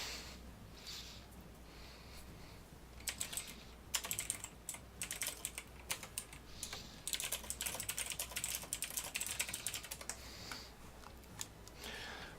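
Close clatter of typing on a computer keyboard during a World of Tanks league broadcast: scattered keystrokes, then bursts of quick, irregular tapping that swell and fade, with no voices.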